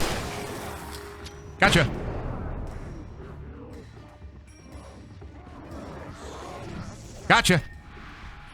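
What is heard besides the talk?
shotgun firing in video game Alan Wake Remastered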